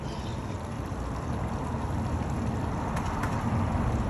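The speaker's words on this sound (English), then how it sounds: "a new thing to hear when it's quiet outside at Fondren is the babbling brook of Louisa's" Babbling brook outside at Fondren, a steady broadband rush of flowing water running continuously and evenly, fairly close, with no voices.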